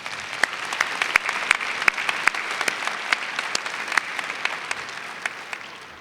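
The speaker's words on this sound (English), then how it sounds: "Let's give them a round of applause" At a fall undergraduate commencement ceremony the crowd applauds, a continuous bed of clapping with a few sharp, distinct claps close by standing out. It holds steady for several seconds and thins slightly near the end.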